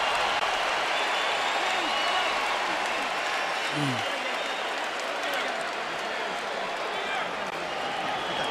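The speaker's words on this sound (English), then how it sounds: "they cheer Baldomir for his effort" A big arena crowd at a boxing match between Floyd Mayweather Jr. and Carlos Baldomir roars and applauds steadily, keeping up a dense, continuous cheer from far off, with commentary talk underneath.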